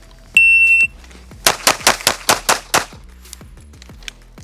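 A rapid string of six close, loud gunshots during a practical shooting transition drill, preceded by a sharp electronic start beep, with echoing reports trailing away at a range.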